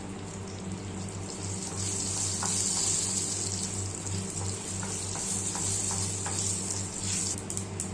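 Mustard seeds pop and sizzle in hot oil in a pan for a Kerala curry, a steady bright frying hiss with small scattered crackles and no talk.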